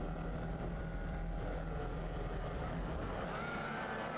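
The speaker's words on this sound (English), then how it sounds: "The revs start to build." Formula Vee race car engines in a racing video game drone and build revs on the grid before a green-flag start, a steady low engine hum with rising pitch, moderately loud and continuous.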